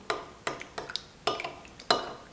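A utensil clinks against a bowl while stirring a soy sauce, oyster sauce, sugar, cooking wine and salt seasoning mixture, five or six sharp close taps in an irregular rhythm with no talking.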